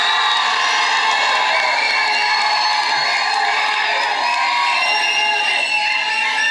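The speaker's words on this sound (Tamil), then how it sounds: "சந்தானம் அவர்களே ஒரு பெரிய கைத்தட்டலோட" Large audience cheering and clapping at a Tamil film event, a dense, loud, continuous roar of whoops and shouts with no break.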